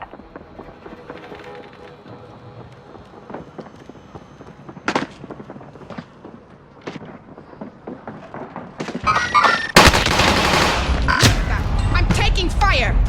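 Gunfire and explosive impacts in the Warzone battle royale video game, with sharp isolated shots early on, then a loud dense burst of firing and blasts in the final seconds over ongoing game ambience.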